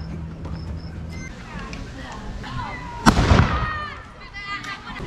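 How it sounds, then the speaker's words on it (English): A cannon fires from a fort on Mackinac Island, giving one sudden booming report partway through that rolls away into a fading rumble, with people talking and outdoor ambience around it. "They just fired a cannon,"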